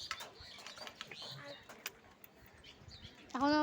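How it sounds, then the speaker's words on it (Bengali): Pigeons with their chicks, heard as soft cooing, chirps and a brief flutter of wings, with a louder call rising near the end close by; a person speaks faintly in the background. "পায়রা বাচ্চা উঠেছে।"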